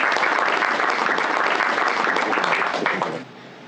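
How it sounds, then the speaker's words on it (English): Audience applause after an introduction at an evening talk on hedge funds and alternative data, a dense, even roar of many hands clapping that stops abruptly near the end. "everyone clap for Cornell"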